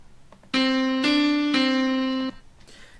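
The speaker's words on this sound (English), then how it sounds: "A major second sounds like this." Two sustained tones a major second apart sound cleanly, one note starting first and the second joining, three even attacks of a rich harmonic timbre held together before both cut off.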